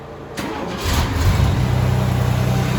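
A car engine cranks and catches, then settles into a steady idle. The engine is already warm, and the car was brought in from cold weather. The sound is loud and close, with no voices.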